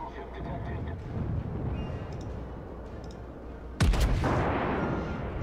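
Naval guns in the World of Warships video game fire a single loud, booming salvo partway through, following low rumbling ambience and a voice talking over the game.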